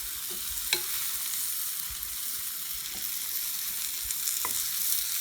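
Coated mushrooms frying in a pan give a steady sizzle, broken by a few sharp clicks and scrapes as the pieces are flipped, with no voices.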